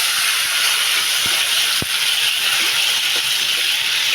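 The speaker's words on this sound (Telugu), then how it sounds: "ఇప్పుడు ఆవాలు వేగిపోతున్నాయండి, ఆవాలు, జీలకర్ర." Mustard seeds and cumin sizzle in hot oil as a steady, loud hiss, with a few faint pops and crackles breaking through the frying noise.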